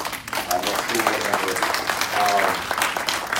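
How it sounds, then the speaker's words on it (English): An audience at a college affordability town hall gives a speaker a round of applause, steady dense clapping throughout with crowd noise and voices mixed in. "Give her a round of applause."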